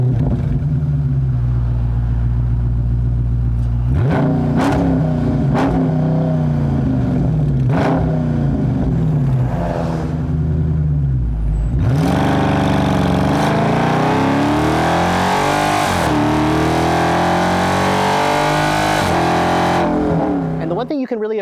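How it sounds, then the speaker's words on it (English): A 2020 Dodge Charger Scat Pack Widebody with a 485 hp V8 rumbles at idle, then revs in several sharp throttle blips through its exhaust before a long, loud, sustained rev, heard close and alone. "I'll let you hear what that big mean V8 sounds like."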